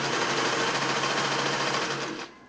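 A Singer 600E sewing machine runs a fast, steady stitch at a wide zigzag setting, close and even throughout before slowing to a stop at the end.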